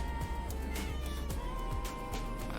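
A house cat meows once or twice close by, short vocal calls over a steady background hum, with no talking.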